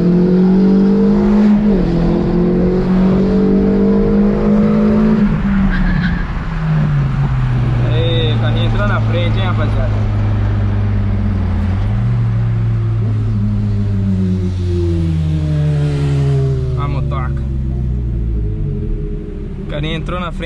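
A Renault Sandero RS accelerates hard, its engine note rising loudly through several gear pulls, the pitch climbing and dropping between shifts, with someone talking over the drone.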